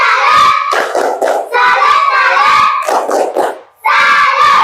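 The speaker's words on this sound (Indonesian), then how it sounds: "kita beri tepuk salut lagi untuk kelompok 2. Tepuk salut." A school class performs a rhythmic 'tepuk salut' clapping chant, children shouting the chant loudly in unison in short bursts with brief pauses and claps between phrases.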